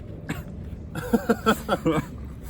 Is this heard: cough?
yes